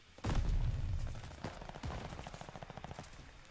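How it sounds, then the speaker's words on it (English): Video game gunfire: a loud burst of rapid automatic shots opens, then a broken sequence of sharp single and clustered shots continues at a steady rhythm, fairly close, with no talk over it. "Gunfire starts happening."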